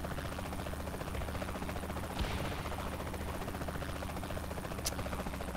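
Steady helicopter rotor chop and engine drone in Saints Row: The Third, loud and continuous throughout, with a couple of brief clicks on top.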